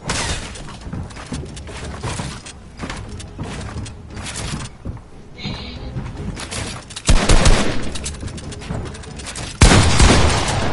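Rapid bursts of gunfire in Fortnite, loud and close, with dense overlapping shots that surge into heavier volleys near the end, with no talking.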